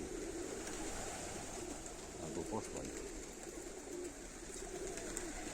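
Soft, low pigeon coos repeat under quiet speech, with a constant hiss in the background.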